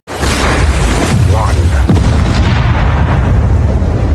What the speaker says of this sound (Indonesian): Bom itu meledak di saat yang tepat.